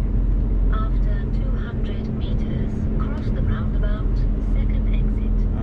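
A car rolling along the road toward Norwich, a steady low engine and road hum heard from inside the vehicle, with people talking throughout over the drone.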